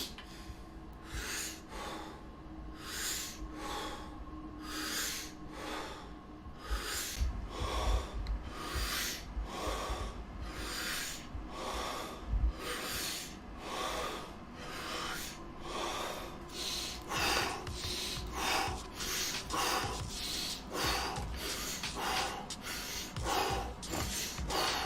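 Heavy, forceful breaths of a breathing exercise repeat in a steady rhythm of sharp inhales and exhales, close and loud, continuing throughout with a faint voice beneath.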